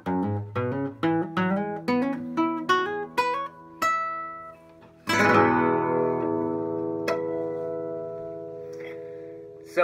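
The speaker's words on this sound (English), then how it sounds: "there's been a request for a cool guitar riff." Guitar riff in the E pentatonic scale: a quick run of plucked single notes climbing in rhythm, then a ringing strummed chord that sustains and fades, clear and close with no talk.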